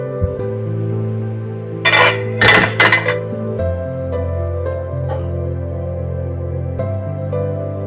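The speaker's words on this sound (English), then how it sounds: "now time to go ahead and spoon some of this, I should say ladle some of this into a bowl" Zuppa Toscana soup is ladled from a pot into a bowl: a few close, bright clinks and scrapes of the ladle against metal and ceramic over a low steady kitchen hum, with no talking.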